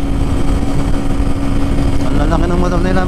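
Several big motorcycles ride together in a group on a morning ride in Dubai, their engines making a steady, loud, close drone throughout, with a rising revving tone near the end.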